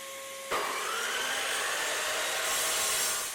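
A drill bit bores through a piece of 25mm thick MDF, starting abruptly with a steady, loud whirring hiss that holds for about three seconds and swells slightly near the end.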